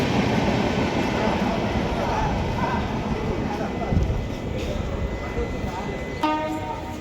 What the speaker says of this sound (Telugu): ఎస్, అది రాజధాని ఎక్స్ప్రెస్.